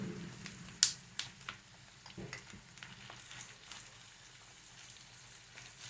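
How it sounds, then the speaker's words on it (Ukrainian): Minced meat and onions fry in oil with a faint, steady sizzle, punctuated early on by a few sharp clicks and pops. "Тепер сюди додаємо фарш і обсмажуємо все разом."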